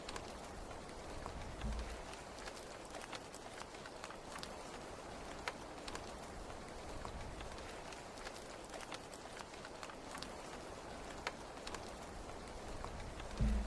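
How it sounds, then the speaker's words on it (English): Steady rain falling through a long stretch, a dense constant hiss with scattered sharper drops and taps, moderately faint and even, with no voices. "We just listen to the rain. It's therapeutic."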